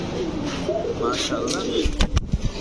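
Python Blood breed pigeons coo at a pigeon market stall, low throaty calls heard close under a man's brief spoken remark, with crowd bustle and a few sharp knocks in the background.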